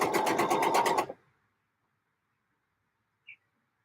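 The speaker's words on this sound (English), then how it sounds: "Let's sew on all of these back pieces." A sewing machine runs in a quick rhythmic burst for about a second while stitching dress back pieces, then stops, followed by silence and one tiny high chirp.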